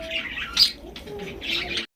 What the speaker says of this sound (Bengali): ডাক তো মাসাল্লাহ উড়া ডাকতেছে